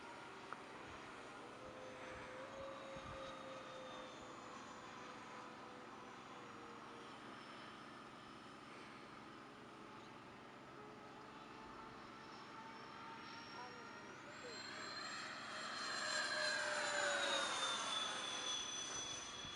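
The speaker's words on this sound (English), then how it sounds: "the thing actually flies nice for a version 1 plane." An FMS version 1 A-10 RC model jet, rebuilt and repainted, flies overhead with a steady, distant electric ducted-fan whine that swells louder and shifts pitch as it passes close late in the flight.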